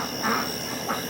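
Ducks quack in the background on a rain-soaked homestead during a storm, short nasal calls rising twice over a steady wet ambient hiss, with no one talking.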